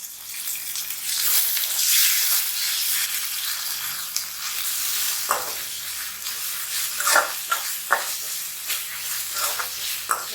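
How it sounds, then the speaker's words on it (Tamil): Onion and ginger-garlic paste sauté in a pan for spicy tomato thokku. A steady, soft sizzle is broken by a few sharper stirring scrapes toward the end. "இப்போ இஞ்சி பூண்டு பேஸ்ட் சேர்த்துக்கோங்க"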